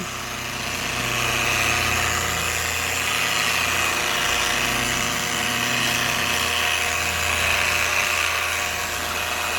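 A polishing machine motor hums steadily at close range against a fiberglass boat hull, a constant droning whine with a low vibrating undertone and no speech.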